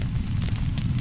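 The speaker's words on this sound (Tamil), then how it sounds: "நெருப்பு வேகமா தான் எரியுது" A cartoon fire burns steadily in a continuous roar with crackling bursts, loud and close with no talking.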